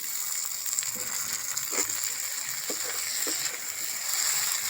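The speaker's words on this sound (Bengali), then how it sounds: "এরপর আমি টমেটো কুচিগুলো এই মশলার মধ্যে দিয়ে দিলাম" Chopped tomatoes sizzle in frying onion masala with a steady, close hiss, broken by a few small splatters and pops.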